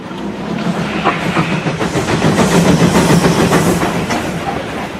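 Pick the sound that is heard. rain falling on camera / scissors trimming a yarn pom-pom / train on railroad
train on railroad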